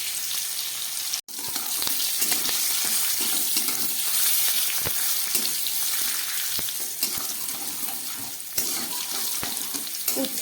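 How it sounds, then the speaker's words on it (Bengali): Bitter gourd fries in oil with a continuous hissing sizzle and occasional stirring clicks, moderately loud and close with no voices. "উচ্ছেটা ভাজা হয়ে গেছে"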